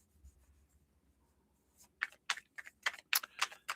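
Tarot cards are shuffled quickly during a live reading. After a quiet start, a run of soft papery riffles and taps follows in uneven bursts, fairly close and faint.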